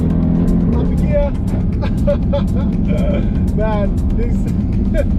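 A 707 hp Jeep Grand Cherokee Trackhawk SUV with a Hellcat engine accelerates hard, its loud, close engine roaring and rising in pitch through quick upshifts while someone talks over it.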